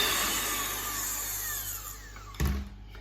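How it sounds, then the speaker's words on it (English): An electric whisk beats gluten-free raspberry, lemon and yogurt tea loaf batter with a steady, moderately quiet whirring hum, then gives a brief clatter and cuts off near the end. "you can get the whisk on it again now."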